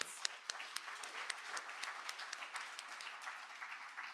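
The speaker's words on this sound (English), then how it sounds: "So please give them all a round of applause" Applause from a dinner audience at a 2024 charity program, a steady crowd patter with a few sharper claps standing out, moderately distant and sustained for several seconds.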